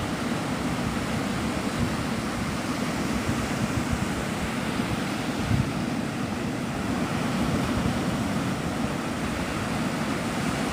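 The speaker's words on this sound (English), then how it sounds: "the water's been crazy all week." Rough surf at Navarre Beach, Florida, during a week of double red flag conditions: a steady, loud roar of crashing ocean waves mixed with wind buffeting the microphone, continuous throughout with no voices.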